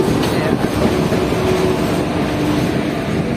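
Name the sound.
Janaki Express passenger train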